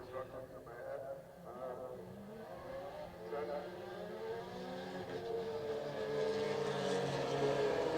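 Formula BOSS race cars at Bishopscourt in Ireland accelerate away at a race start, their engines whining and rising in pitch as the pack pulls off, moderately distant beneath steady commentary.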